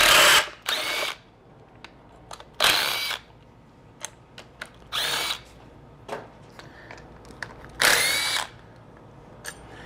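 Impact wrench rattling bolts off an NP231 transfer case, several loud short bursts spaced a second or two apart, each a sharp hammering buzz, with small clinks and handling noises in the pauses between; no talk.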